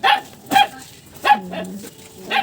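A dog barks four times, sharp and close, with short gaps between the barks and a whiny tail on some of them.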